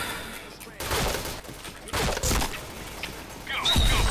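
Bursts of gunfire in a shooter video game, with several loud volleys of shots and impacts separated by brief pauses, while players talk over the action.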